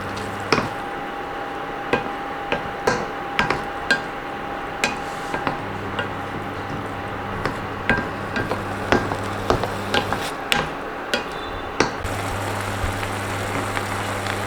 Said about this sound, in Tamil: இப்போ ரைஸ் போட்டுக்கலாம், நல்லா கலக்கிக்கலாம்.